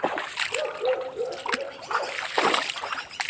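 Water splashing and sloshing as someone wades through a mountain stream on a solo hike, with bursts of splatter and trickling throughout, close by and fairly steady, with a voice briefly audible.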